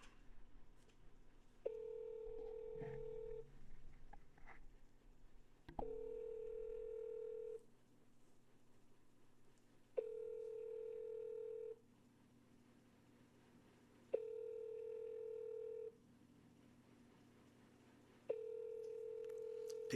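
Outgoing sales call ringing on the line, a steady tone in evenly spaced bursts of about two seconds with silent gaps between, repeating five times, clear and moderately loud.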